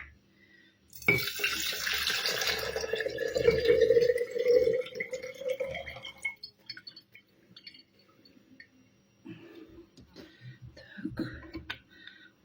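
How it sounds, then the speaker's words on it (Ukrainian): Water from jars of tomatoes and cucumbers being prepared for preserving pours into a sink with a rushing, splashing stream for several seconds, then stops, followed by scattered clinks and quiet handling sounds. "Я зливаю цю воду, бажано виміряти її."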